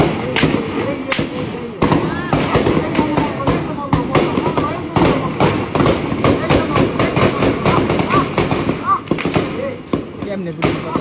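Gunfire outside Jatrabari police station: rapid, loud bangs crack one after another without a break, and agitated voices shout and talk under the shots throughout.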